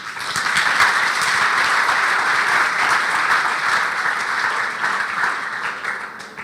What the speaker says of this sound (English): Everyone, big round of applause for John Biggs.